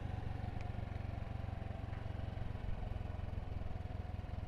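A Honda Navi motorcycle on a fall ride through park roads, its small engine giving a steady, close, unbroken low rumble with a faint mechanical clatter throughout and no talk.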